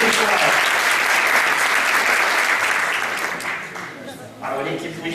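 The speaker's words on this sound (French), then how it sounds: "Allez, on les applaudit, on vous souhaite beaucoup de courage" A hall full of people claps for a student medical team at a regional SIMCUP competition, sustained loud applause that fades slightly then surges again toward the end.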